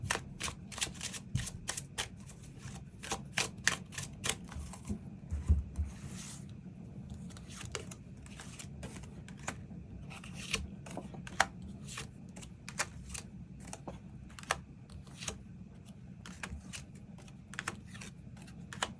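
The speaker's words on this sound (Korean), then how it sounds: "이 부분 추가 카드 뽑아보도록 하겠습니다" Tarot cards shuffled and handled by hand in a quiet room, with a dense series of soft, crisp riffles and taps spread over the whole stretch.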